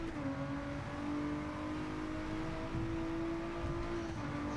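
A 2017 Honda NSX engine in Gran Turismo 7 on the Tokyo Expressway, built to about 600 PP, holds a loud, steady high-revving drone at full throttle, with a strong tonal whine throughout.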